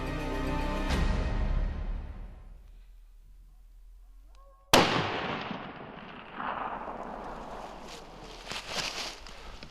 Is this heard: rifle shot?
yes